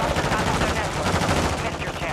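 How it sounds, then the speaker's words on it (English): Rapid gunfire in the video game Call of Duty: Modern Warfare II, a dense, continuous burst of automatic shots filling the whole stretch at steady loudness, with no talk over it. "He's shooting, bro."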